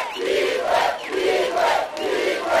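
A large crowd of supporters at the Mobutu roundabout in the DRC cheers and chants in rising, rhythmic waves, loud and continuous throughout with no clear speech.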